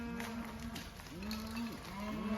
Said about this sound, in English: we got a cattle drive going today